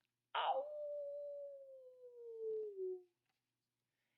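A human voice imitates a coyote howling to its pack on a cold winter night: one long, sliding howl that starts with a sharp attack and slowly falls in pitch for nearly three seconds, then stops into silence.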